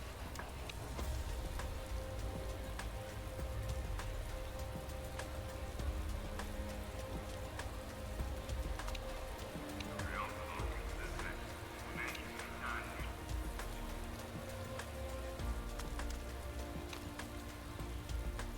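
Rain during a race in the Motorsport Manager video game, a steady soft hiss of falling rain that runs throughout, fairly faint, with a brief burst of quacking-like chatter partway through.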